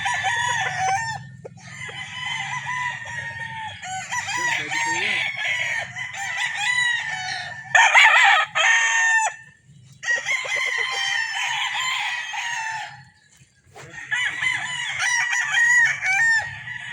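A Super Kelso straight comb rooster crows repeatedly and loudly at close range, with long strained calls separated by brief pauses and a low hum running underneath.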